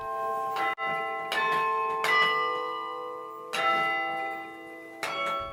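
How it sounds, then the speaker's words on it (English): Carillon bells in Luther Tower at Concordia Seminary, played from a keyboard, ring out in a slow sequence of five bright struck tones, each leaving a long, overlapping resonant hum. "He's playing the keyboard in a carillon."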